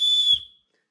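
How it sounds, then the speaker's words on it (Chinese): A small whistle built into the tail of a multi-function tactical axe gives one short, piercing, shrill blast lasting about half a second, loud and close, then cuts off to silence. "尾部还给你带了一个小口哨"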